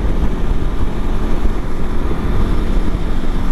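Steady, dense wind rush buffeting around the windscreen of a Honda CB500X motorcycle at riding speed, a constant loud roar with no speech over it.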